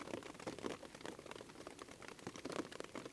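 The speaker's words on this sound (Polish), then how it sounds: "Znowu pada." Steady rain patters at a lakeside camp, a dense, even hiss of drops on surfaces lasting throughout at moderate-to-faint level, with no voices.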